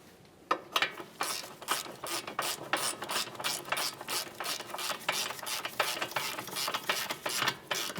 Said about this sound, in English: Start on your mounting nut. Snug it up, torque it to 32 foot-pounds.